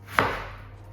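A single crisp knife chop on a cutting board, close and clear, with a short ringing tail and no voices.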